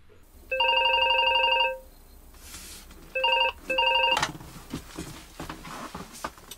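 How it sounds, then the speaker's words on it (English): A telephone rings through a handset held up to a television after dialing, giving a long electronic ring, then two shorter rings, followed by clattering handling noise. "we'd just dial somebody's phone number and put the handset up to the television like this and wait for them to answer"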